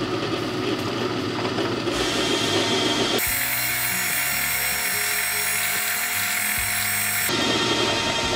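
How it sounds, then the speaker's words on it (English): A power drill with a short stubby hole-starter bit whirs steadily at high speed, its pitch shifting as the bit works into material, with a brief change in tone mid-run. "I'm going to use this little stubby hole starter."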